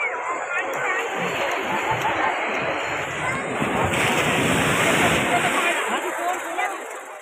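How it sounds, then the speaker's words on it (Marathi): Sea waves rolling in at high tide on the beach at Kunkeshwar, a loud continuous near surf roar that swells and recedes, mixed with wind buffeting the microphone. "तर मित्रांनो आता समुद्रात भरती इली"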